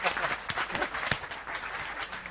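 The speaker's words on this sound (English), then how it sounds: "Big round of applause." Audience applause after volunteers are thanked and handed chocolate fish at a presentation, a steady dense patter of clapping lasting a couple of seconds with a voice heard faintly underneath.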